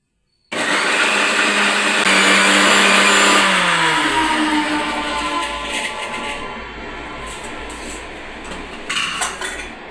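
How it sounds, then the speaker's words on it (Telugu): A mixer grinder whirs loudly, blending cumin, turmeric and salt, starting abruptly and then slowing down with a falling pitch, followed by a few faint clinks at the end. "ఇప్పుడు ఇది మిక్సీ పెట్టేస్తానండి."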